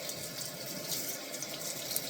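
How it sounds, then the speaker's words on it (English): Tap water runs steadily into a sink while trumpet parts, including the valve caps and bell, are rinsed under the stream, a continuous even splash with no voices. "Run the water through it a little bit, run through the caps of the valves and through the bell."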